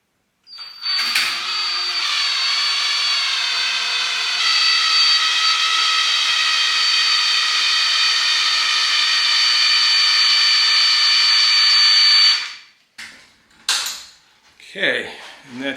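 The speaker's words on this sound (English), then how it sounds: "I'm going to take my drill, hook that screw eye onto the other end." An electric drill, a screw eye hooked in its chuck and the other end held in a vise at a workstation, whines steadily and loudly for about eleven seconds, then stops, followed by a few short clunks.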